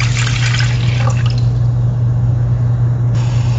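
Water is poured into a cooking pot for tinolang malunggay with fish, a loud, steady splashing rush over a low constant hum that eases off toward the end.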